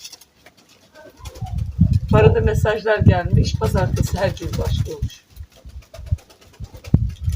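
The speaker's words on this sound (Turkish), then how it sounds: "Güvercinlerimin sesleri." Pigeons coo softly in the background while a person talks over them, the low throaty calls partly buried under the voice.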